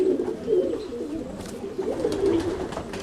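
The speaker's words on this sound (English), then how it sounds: "He's a beautiful white roller. He's a Birmingham roller" A white Birmingham roller pigeon, a male, cooing in a loft, with low repeated throaty coos close by and some faint rustling between calls.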